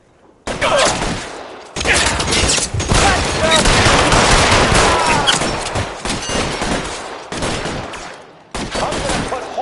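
Sustained video game gunfire blasts in loud, dense bursts from start to finish, with brief gaps between volleys and heavy rumbling impacts, in a PS4 shooter.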